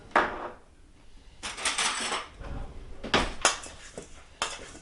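Potatoes tossed with spices, oil and rosemary in a bowl, giving irregular scraping and clattering bursts from a utensil against the bowl, close by with no talking.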